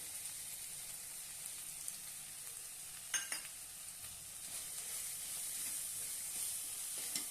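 Cooked tomatoes sizzle steadily in a pan as besan flour is added, with a few clinks and scrapes of stirring over the constant frying hiss.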